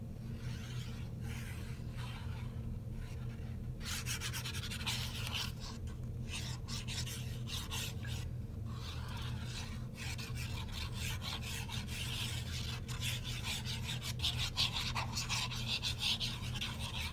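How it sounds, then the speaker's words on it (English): Glue being spread onto a crafting project, a continuous close rasping, rubbing scrape that keeps going with brief bursts and pauses, alone with no talk. "I know that's annoying to listen to me put glue on."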